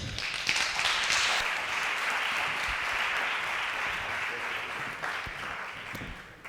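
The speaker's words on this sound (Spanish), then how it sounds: "un fuerte aplauso para Julia" An audience at a school TED-style student talk event claps warmly for a speaker, a thick continuous wash of applause that holds steady and tapers slightly near the end.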